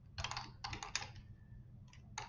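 Quiet bursts of rapid clicking from a computer keyboard, several flurries of keystrokes separated by short pauses, faint and close with no one speaking.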